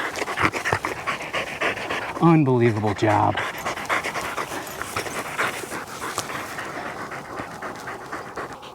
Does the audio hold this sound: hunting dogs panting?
yes